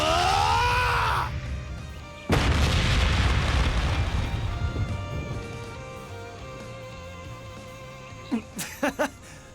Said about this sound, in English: Was that the Ungula Barrage?